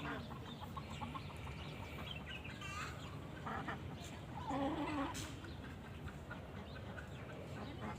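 Chickens cluck and squawk at a farm yard near a gate alongside ducks and other fowl, scattered calls over a steady outdoor background with a louder burst midway.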